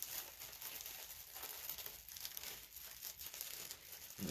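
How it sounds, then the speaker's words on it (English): Cellophane wrapping is crinkled and pulled off a 3D wooden window flower box kit, a close, continuous rustle and crackle with no voices. "Let me get the cellophane off of it there."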